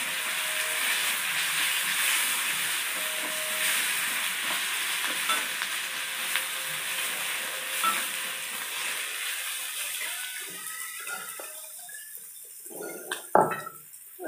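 Dal being stirred in a pan with salt, cumin, turmeric and chilli powder, a continuous loud sizzle with steam hiss and scraping stirs that grow sparser and clatter near the end.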